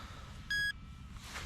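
An FPV racing drone beeping after its goggles are disconnected: a single short, pure electronic tone over faint background noise outdoors.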